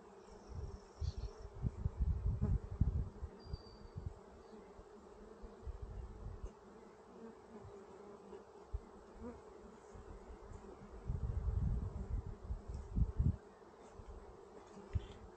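Honey bees buzz steadily around an open beehive, a close, continuous drone that swells and fades as bees pass near, with no talking.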